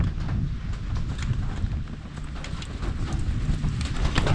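Rain falling outdoors as a dense, steady wash of noise with a rumbling low end, loud and continuous throughout with no talking.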